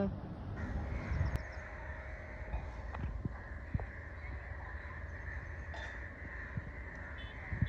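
Several crows caw repeatedly around a village home, loud and fairly close, over a busy outdoor background with a few sharp knocks.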